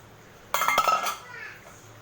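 A spoon knocks and scrapes inside a pot of simmering chicken curry with potatoes, one short clattering burst of metal-on-metal strokes that rings briefly and fades, close by.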